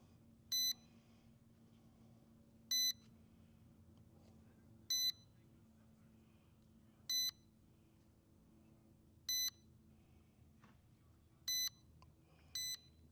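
A Ruko U11 Mini 4K drone and its remote control beep while connecting, seven short evenly spaced electronic beeps about two seconds apart over a faint background hum.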